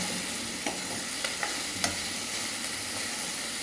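Bitter gourd fries in a pan with a steady sizzle, and a spatula scrapes and stirs it in a few sharp clicks.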